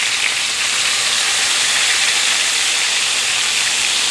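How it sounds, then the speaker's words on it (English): Cube steak frying in a pan for Southern-style smothered steak, a loud, even, continuous hiss of sizzling oil heard up close with no talking. "Don't go moving nothing around, just let it fry."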